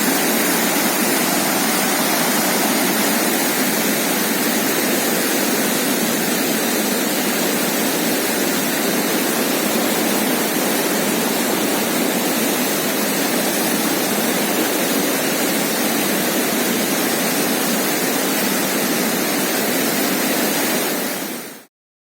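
The Serayu river in Central Java, Indonesia, rushes loudly after rain upstream, swollen water forming a dense, unbroken roar close by that holds steady for about twenty seconds before cutting off abruptly, with no voices.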